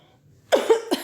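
A woman coughing close to the microphone, two or three quick raspy coughs in a short burst after a near-silent moment.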